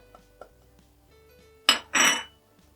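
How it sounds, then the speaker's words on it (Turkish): A spoon scrapes and clinks against a bowl while powdered sweet paprika, black pepper, cumin and salt are mixed, giving two short, close bursts after faint taps, with no voices. "Şöyle tekrardan güzelce karıştırıyorum"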